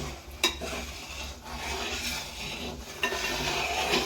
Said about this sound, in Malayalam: ഉരുക്കി അരിച്ചു വെച്ചിരിക്കുന്ന കരിപ്പട്ടി ഇതിനകത്തോട്ട് ഒഴിച്ചു കൊടുക്കാം നേരെ ഇളക്കാം ഇതുപോലെ ഒരുപാട് നേരം നിന്ന് ഇളക്കാം